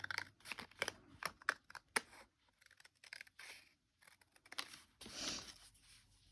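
Scissors snip repeatedly through paper in quick, close, crisp cuts with rustling between, ending in a longer crinkle.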